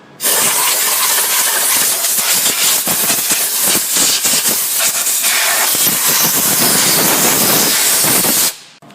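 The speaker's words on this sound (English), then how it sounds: "make sure you blow it off. If you have compressed air" Compressed air blasting over the upper intake of a Ford Taurus 3.0L 24-valve DOHC engine, a loud continuous hiss starting abruptly and cutting off near the end.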